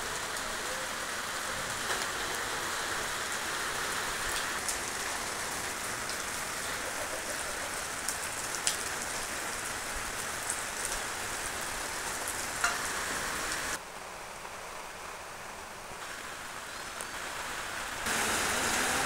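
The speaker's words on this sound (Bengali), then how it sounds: "বাইরে বৃষ্টি হচ্ছে।" Steady rain falls outside, a continuous even hiss that holds for the whole stretch and drops slightly near the end, with no voices.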